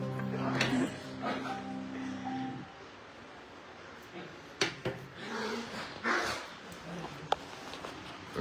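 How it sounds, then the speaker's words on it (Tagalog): Several pet dogs bark and snarl at each other in a scuffle, loud close yips and bursts scattered through the clip, with a person's voice in between. "Yung mga aso ko malakas siyang tumahol."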